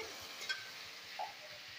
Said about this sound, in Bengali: এখানে আলুগুলি ভাজি ভালো মতন লাল লাল হয়ে গেলে